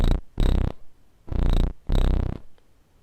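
Noise output of a Kastle Drum synthesizer, four loud bursts of rough, hissy buzzing noise in an uneven pulse, separated by short near-silent gaps, with no voices.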